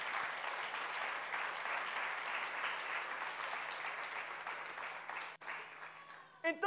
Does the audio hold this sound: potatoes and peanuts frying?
no